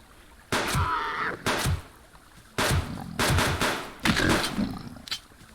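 Several gunshots fired at a boar in the survival video game Subsistence, coming as loud, sharp blasts in irregular bursts with short gaps between them.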